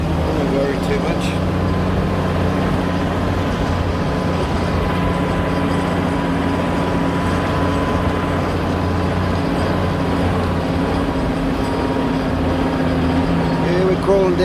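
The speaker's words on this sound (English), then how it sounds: "The engine might be a little bit noisy" A car engine drones continuously at low revs while crawling down in second gear toward a bridge, a steady mechanical hum from inside the cabin with no breaks.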